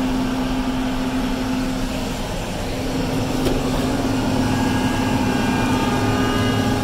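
A John Deere 1050 tractor engine runs at a steady, raised RPM, a continuous close drone with a firm low hum and no clear rise or fall, and no voices.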